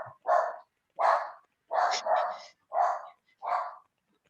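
A pet dog barks six times in quick, evenly spaced bursts, each a short sharp bark, close by and loud against an otherwise silent indoor background.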